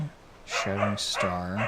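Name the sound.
dog barking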